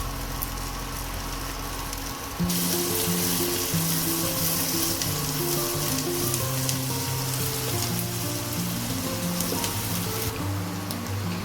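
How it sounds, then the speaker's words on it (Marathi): Finely chopped capsicum and golden onions sizzle steadily in a pan for pav bhaji, a loud continuous frying hiss that jumps up sharply after a couple of seconds, with music playing underneath. "एक 2 मिनटं आपण शिमला मिरची परतून घेतली आहे"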